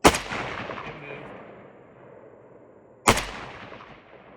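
Two loud rifle shots from a 5.56 AK fired at targets on an outdoor range, each a sharp crack followed by a long rolling echo, spaced about three seconds apart with no talk.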